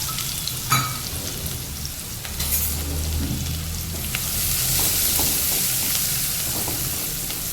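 Chopped onion dropped into hot ghee with cumin seeds and asafoetida, a close, steady sizzle and crackle of frying with a few stirring clicks.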